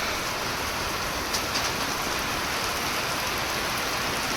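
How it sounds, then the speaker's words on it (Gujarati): Steady, dense monsoon rainfall over farm fields at sowing time, with a constant hiss of drops on surfaces, even and unbroken throughout. "અત્યારે વરસાદ ચાલુ છે"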